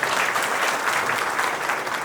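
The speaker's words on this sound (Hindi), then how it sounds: "खुद के लिए आप जोरदार तालियां बजाएं" Audience at a tenants' general meeting of the Trimurti SRA housing society claps in steady, dense applause that fills the room evenly for about two seconds, with no talk over it.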